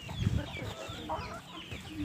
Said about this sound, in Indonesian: kita memelihara ayam kampung sekedar hobi